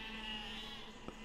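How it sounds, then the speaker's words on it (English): A burning sheep in the physics game Besiege lets out a faint, brief bleat over a low steady background drone. "looks like we got some sheep that are on fire over there"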